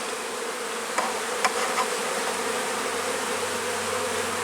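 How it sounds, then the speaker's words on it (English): A dense, continuous buzz of many honeybees flying close by at a strong hive's entrance in spring, carrying orange pollen, with a few brief sharper clicks early on. "bees bringing in kind of an orange pollen"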